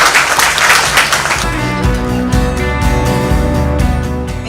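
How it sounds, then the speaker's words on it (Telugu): An audience at a women's self-help group event claps to welcome a speaker, a dense burst of applause that fades into a rhythmic beat with music underneath. "మీరందరూ తమ చప్పట్లతో ఆహ్వానించాలని"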